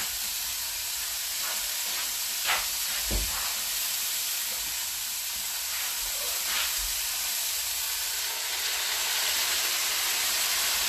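Chicken and beef taco meat sizzles loudly in a hot pan, a dense, steady hiss that fills the whole stretch, broken by a couple of soft utensil knocks.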